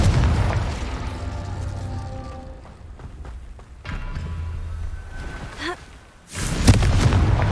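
Incendio and Confringo spell blasts in the Hogwarts Legacy video game, several booming magical bursts and explosions with rumbling tails, loud and close, separated by brief quieter gaps of game ambience.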